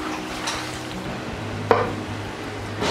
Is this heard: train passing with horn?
no